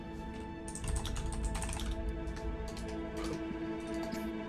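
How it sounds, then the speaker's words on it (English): Quick, uneven typing on a computer keyboard during a tabletop Dungeons & Dragons session, a close, busy patter of keystrokes that runs without a break and stands alone with no talking. "Are you just typing It randomly?"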